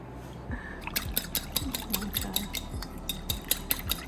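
Wet ingredients for a flaky cherry pie dough whisked together in a bowl, a quick, regular tapping rhythm of the whisk against the sides with light liquid sloshing, close and alone.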